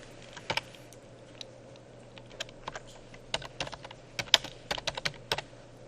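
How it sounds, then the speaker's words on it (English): Typing on a computer keyboard, a quiet, close series of irregular key clicks with short bursts and pauses, picking up into quicker clusters toward the end. "I'm going to start typing."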